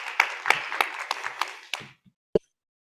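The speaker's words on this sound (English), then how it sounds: "now I'd like to give a warm round of applause to welcome Ina." Applause from an audience at a permanent makeup congress welcoming a speaker, heard as a short, sparse run of separate claps that fades out within about two seconds, followed by a single closing clap.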